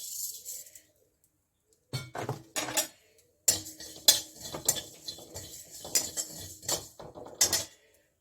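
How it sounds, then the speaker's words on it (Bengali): White cumin seeds dry-roasting in a pan, stirred with a metal utensil: sharp, close clinks and scrapes in irregular bursts, separated by near-silent gaps. "এই যে জিরা সাদা জিরে আছে এইটা আমি ভেজে নিচ্ছি"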